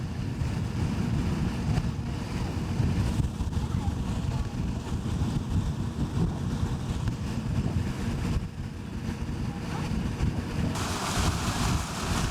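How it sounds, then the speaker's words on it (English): Strong wind roars steadily across an open mountain landscape in Jotunheimen National Park, Norway, buffeting the microphone with loud, continuous rumbling gusts and no let-up throughout. "It's very windy today."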